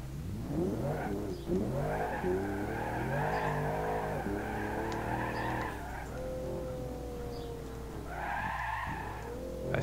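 Race car with nitrous oxide in BeamNG.Drive, engine revving and rising in pitch through gear changes, with skidding and tire squeal, loud and continuous with no talk.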